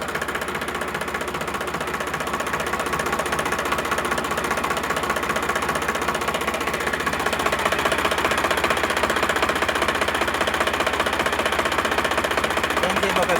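Close and loud, the diesel engine of a 2012-model Sonalika RX 745 tractor with new oil and no blow-by chugs at a steady rapid idle, with a voice faintly in the background.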